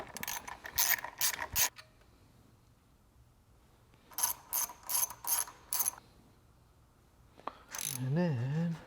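A ratchet wrench clicks loose 10 mm bolts on the wire harness of a Honda FL5 intake, three close bursts of rapid ratcheting separated by pauses, ending in a brief metallic rattle.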